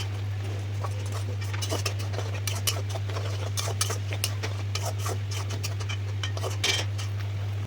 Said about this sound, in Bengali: এবার বেটে রাখা চারমগজ পোস্ত বাটা দিয়ে দেব।